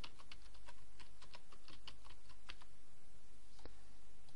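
Quiet, quick typing on a computer keyboard while entering a search, with a burst of soft, evenly spaced key taps that thin out toward the end and a single louder key press near the close.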